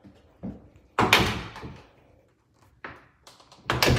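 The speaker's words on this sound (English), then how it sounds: "So there's a double door closet." Double closet doors in a bedroom of a Ritz-Carlton residence thump and knock as they open and close, a few close, fairly loud impacts separated by quiet gaps.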